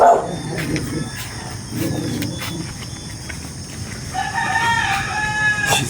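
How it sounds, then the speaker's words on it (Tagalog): High chirping from day-old broiler chicks in a brooding pen, a busy chorus of peeps throughout, with an adult rooster crowing and other farm noises mixed in nearby. "Bisitahin natin ang sisiw."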